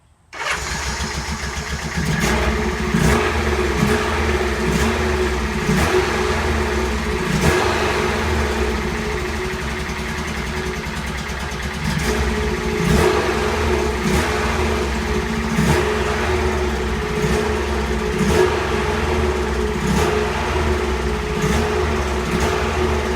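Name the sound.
Honda S600 engine running rough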